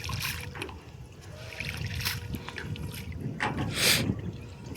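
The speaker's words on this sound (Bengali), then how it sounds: "তো দেখতে পাচ্ছেন নৌকাতে ওই পারে নিয়ে যাব," A fishing boat moves across a river with water sloshing and splashing against the hull in bursts, over steady wind noise buffeting the microphone.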